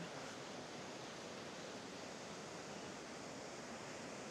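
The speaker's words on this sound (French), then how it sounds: "au bord d'une cascade ici" A steady, dense rush of falling water, even and unbroken, from a nearby waterfall in Norway.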